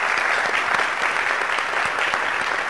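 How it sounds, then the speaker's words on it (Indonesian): University students in an audience applaud at an evening comedy show, a dense, steady wash of clapping that fills the whole moment with no talk over it. "tepuk tangan dulu buat kalian."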